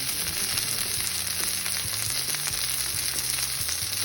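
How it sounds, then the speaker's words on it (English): A bone-in strip loin steak sears in a dry cast iron skillet with no oil, producing a loud, steady hiss of sizzling that runs without a break, with faint crackles and no talk. "And you'll get a perfectly seared steak."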